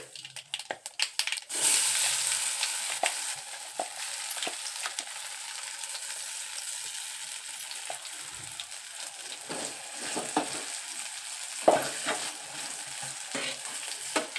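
Mustard seeds, curry leaves and broken dry red chillies sizzling in hot oil for a raw mango chutney tempering, a sudden loud crackle that settles into a steady hiss with a few pops and stirring clinks.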